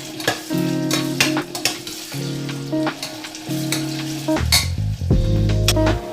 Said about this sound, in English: Allow your onions to fry for some time.